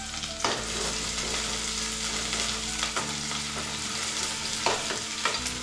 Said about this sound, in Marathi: पण आवाज यायला पाहिजे फोडणीचा. कांदा टाकला, कढीपत्ता टाकला